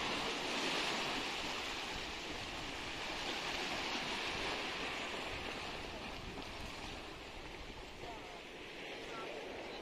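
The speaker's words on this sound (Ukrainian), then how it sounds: "Ось. Знову хвилі і прилив." Sea waves break against rocks and tide rolls up onto the shore, a steady broadband wash of surf with gusty wind noise, continuous and fairly close throughout.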